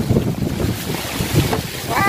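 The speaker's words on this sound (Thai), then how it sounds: "ลมแรงมากเลย" Strong wind buffets the microphone outdoors beside a farm pond, a loud rushing roar with gusty surges that fills the whole clip.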